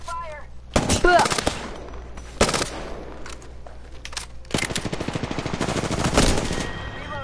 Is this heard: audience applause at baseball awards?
no